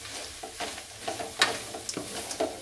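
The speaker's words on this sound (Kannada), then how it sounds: "ಟೊಮೊಟೊ ಕೊತ್ತಂಬರಿ ಪುದೀನ ಎಲ್ಲ ಅದನ್ನೇ ಎಣ್ಣೆಲಿ ಸ್ವಲ್ಪ ಫ್ರೈ ಮಾಡ್ಕೊತೀನಿ" Tomato, coriander and mint fry in oil with a soft sizzle, while a spoon stirs the pan in repeated scrapes and light clinks, close and alone with no talk.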